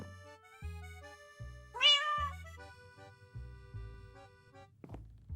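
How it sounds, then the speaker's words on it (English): A cat in the Minecraft NovaCraft video game meows repeatedly in short, clear calls. One higher, drawn-out meow stands out near the middle, with no talking. "Look at the little kitty cat."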